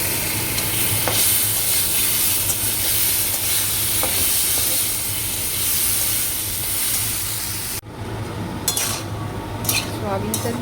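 Soybean chunks hit a hot pan of ground tomato, chili, ginger, cumin and coriander paste, giving a loud continuous sizzle with stirring scrapes, broken by a brief pause and a few sharp utensil clatters near the end.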